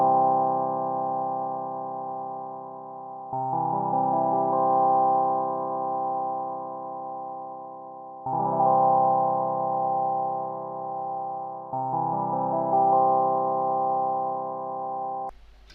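A digital synthesizer plays a short test sequence with no LFO modulation: steady sustained harmonic tones in three or four phrases, each note entering with a brighter attack, clear and alone with no voices.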